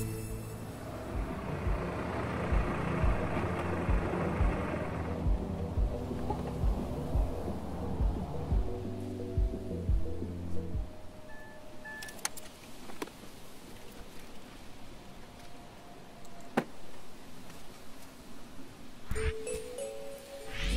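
Celeste prologue ambience in a video game: a car rumbles close for about ten seconds with music, then fades into quiet wind, with a few sharp clicks and knocks of a door as a character gets out.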